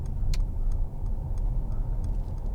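A 2015 Mercedes-Benz C300 CDI BlueTEC Sport diesel cruising on a motorway, a steady low engine and road drone filling the cabin with faint ticking clicks on top.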